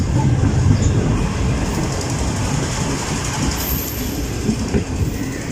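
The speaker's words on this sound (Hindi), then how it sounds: "लालडी जंक्शन रेलवे स्टेशन को स्लो स्पीड में पास करते हुए 41 अब कराकोरम एक्सप्रेस।" The 41 Up Karakoram Express passenger train rolls slowly through a junction station in Pakistan, its wheels clattering and rumbling steadily, with a faint metallic squeal drifting in partway through.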